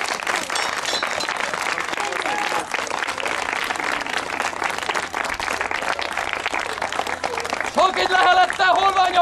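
Crowd applause at a traditional heritage day with a medieval reenactment group, dense steady clapping throughout that grows louder near the end, with voices mixed in.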